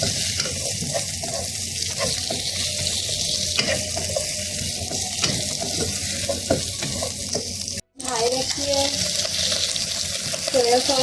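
Capsicum sautéing in a pan for restaurant-style chicken Manchurian, giving a steady sizzle with a few scrapes of stirring and a brief cut partway through, while a voice talks faintly under it.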